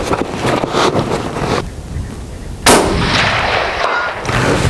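Long-range rifle shot fired at a fox target from a vehicle window outdoors: one loud, sharp report with a broadband burst at about 2.7 seconds, among wind noise and low rumble before and after.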